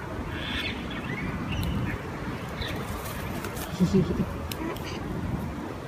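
Ducks and other birds gathering to be fed outdoors, with a few brief quacks standing out near the middle over steady outdoor background noise and a faint voice.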